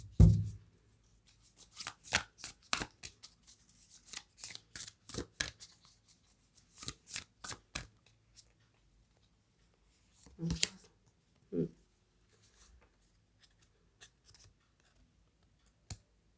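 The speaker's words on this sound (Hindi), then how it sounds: "I have to shuffle it." Tarot cards being shuffled by hand, a run of crisp riffling snaps and soft slaps in bursts, fairly close, with quiet pauses between and a few isolated taps near the end.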